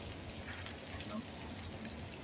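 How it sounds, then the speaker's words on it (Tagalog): Boiled water poured into a pot of chicken curry masala, a steady soft gushing splash of liquid filling the pot, faint and continuous through a short stretch. "Lagyan natin yung na-boil na natin na tubig."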